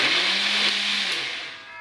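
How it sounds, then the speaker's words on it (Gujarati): A mixer grinder blends bottle gourd with water in a lidded jar, giving a loud, steady whirring roar that holds for over a second and then winds down near the end. "હવે જારનું ઢાંકણ ઢાંકી મિક્સરમાં બધું પીસી લઈશું."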